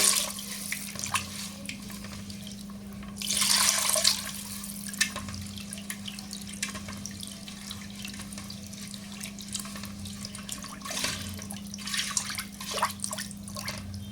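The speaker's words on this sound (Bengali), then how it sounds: "এখন আমি দিয়ে দিব পরিমাণ মতো পানি।" Water pours into a pot of khichuri, a fuller gush rising briefly near the start, then trickles and drips over a steady low hum, close by with no talking.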